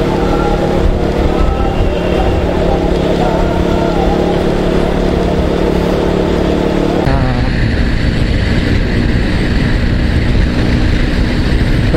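Motorcycle riding along a road on an early-morning long-distance trip between Mumbai and Nepal, with a steady, loud engine drone and road rumble throughout and a slight change in tone partway through.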